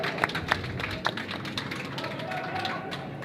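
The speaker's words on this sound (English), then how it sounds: "We're going to clap as these teams come off." Scattered applause from a small audience at a curling B event final as the teams leave the ice: a few sharp claps at first, then light, thin clapping continuing at a distance.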